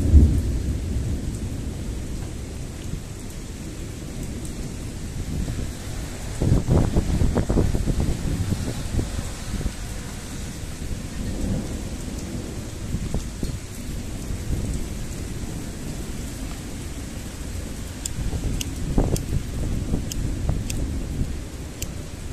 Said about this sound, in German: Schönes Gewitter, sage ich euch.